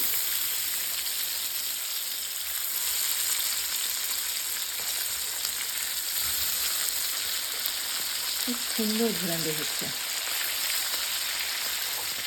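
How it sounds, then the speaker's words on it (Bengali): Hilsa fish fries in a pan with a steady, moderate sizzle throughout, and a person speaks briefly over it near the end. "তো মাছটা আমি উল্টে দেবো। এই পাশটা ভাজা হয়ে গেছে।"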